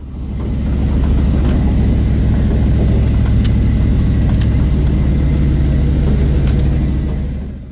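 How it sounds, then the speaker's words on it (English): An off-road wrecker's engine idles steadily through Flowmaster performance mufflers, a deep continuous exhaust rumble held at an even, fairly loud level with no one talking. "The Flowmaster mufflers are a fantastic performance muffler, but I think the videos would be better with something a little louder."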